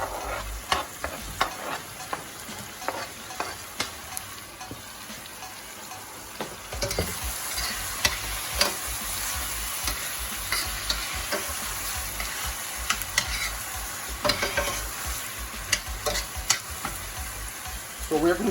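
Ingredients frying with caramelized onion and tomatoes in a pan, a loud continuous sizzle punctuated by repeated spoon clacks and scraping stirs, close up.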